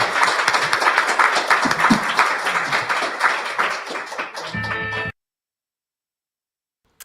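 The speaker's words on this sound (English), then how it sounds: "Have you ever heard applause before at an earnings call?" Applause breaks out at the close of the Robinhood Q2 2025 earnings call, a steady wash of clapping for about five seconds that ends abruptly, followed by silence.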